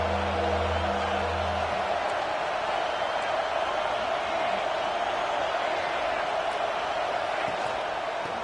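A stadium crowd roars steadily on third down at an American football game. The dense, loud wash of cheering holds the whole time, with a low hum underneath for the first couple of seconds.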